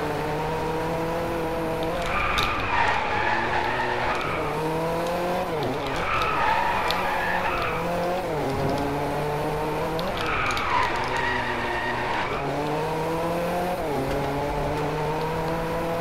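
A RUF CTR3 Clubsport race car in DRIVECLUB drifts through corners. The loud engine revs rise and fall repeatedly, with bursts of tire squeal in three long slides, close and continuous.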